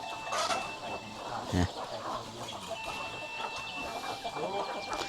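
Chickens cluck and squawk around a small, remote mountain village with only seven houses, several birds close by with one sharp squawk midway, while people talk in the background.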